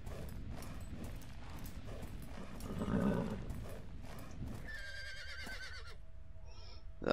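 Horse hooves clip-clop in a winter riding video game, a steady moderate trotting beat over game background sound, slowing before a short clatter and a few brighter game tones near the end.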